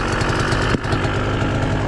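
A KTM enduro motorcycle engine runs loud and close in first gear, a rough buzzing drone with a brief dip before the throttle picks back up.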